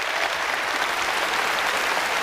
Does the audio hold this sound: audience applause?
yes